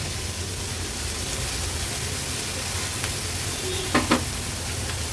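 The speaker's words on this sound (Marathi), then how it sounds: "आपण ह्या भाज्या आणि मशरूम असं तेलावर परतून घेतलं आहे" Vegetables, mushrooms and a handful of cabbage stir-frying in oil for mushroom fried rice, heard as a steady close sizzle with a couple of sharp utensil clatters near the end.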